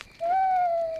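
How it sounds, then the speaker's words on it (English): An owl hoots once in a cartoon, giving a single sustained, slightly falling tone that holds clear and steady for most of a second after a brief pause. "It's an owl."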